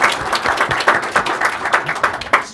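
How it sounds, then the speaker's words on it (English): An audience claps in a lecture hall with dense, even applause from many hands across the whole span. "So go ahead and clap for him, please."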